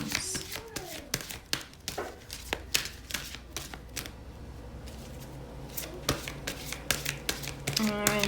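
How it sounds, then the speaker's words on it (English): A deck of tarot cards is shuffled by hand in soft, irregular riffles and taps, with someone talking over it. "I'm going to shuffle 2 more times."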